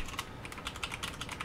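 Rapid typing on a desktop computer keyboard, a steady run of close, crisp key clicks with no talking.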